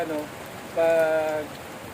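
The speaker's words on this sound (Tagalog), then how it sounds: "malakas ang ulan" Heavy rain falls steadily in the Philippines during the Christmas season, a continuous hiss close by, with a brief voice-like tone rising over it midway.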